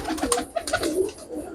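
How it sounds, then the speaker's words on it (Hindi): An original 128 Teddy pigeon, a prized fancy breed, coos close by in a short burst of throaty, rolling coos. "ये ओरिजिनल 128 टैडी कबूतर है।"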